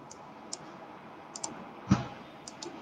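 Sharp, quiet mouse clicks on a computer, a handful of isolated taps spaced irregularly over a faint room hum, with one slightly heavier click near the middle.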